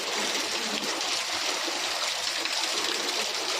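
Water flows steadily as a constant, even broadband rush, moderately loud and unbroken, with no voices or other sounds over it.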